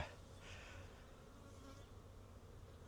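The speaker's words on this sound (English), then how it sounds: "We got bees flying around" Steady buzzing of many honey bees flying around, a continuous insect drone with a low hum underneath, fairly quiet and without voices.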